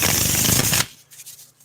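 A deck of matte, smooth tarot cards riffled and shuffled up close, a dense crisp rustle for under a second that stops abruptly and leaves faint quiet handling.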